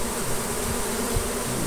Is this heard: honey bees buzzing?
yes